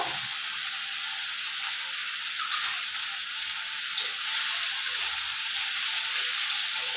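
Spices sizzle and fry in a pan for a rohu fish curry, a steady bright hiss with faint clinks as they are stirred, fairly close and with no talking.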